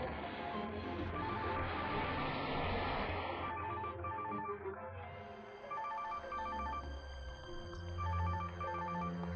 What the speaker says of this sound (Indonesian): Teleponku terus berdering.